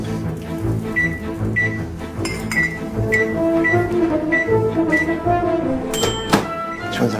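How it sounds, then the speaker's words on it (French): A microwave oven runs in a busy restaurant kitchen, with a steady hum, beeps and clunks, over clattering pans and background kitchen noise. "Je vais me servir du micro-ondes."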